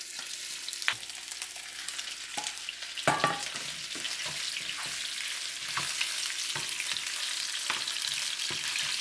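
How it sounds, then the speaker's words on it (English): Pork riblets brown in hot oil in a pan, giving a steady, close sizzle and crackle with a few sharp pops and spatters throughout. "It heat up pretty good right now, so you put some oil in it. So we're gonna put the ribs in it."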